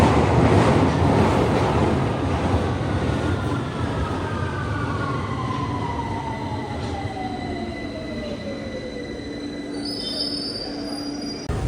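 Train riding back from Finsbury Park after a football match, steady loud rumble of wheels on rails with long high squeals gliding down in pitch, close and continuous, with no talking.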